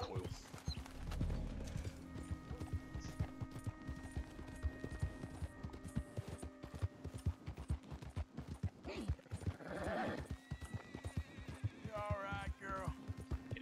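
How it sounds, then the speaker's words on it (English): Steady clip-clop of horse hooves trots throughout in Red Dead Redemption 2, with a horse neighing and whinnying near the end over a faint musical backdrop. "Calm down, horse."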